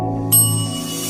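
A notification bell sound effect gives a single bright ding that rings out over steady background music tones.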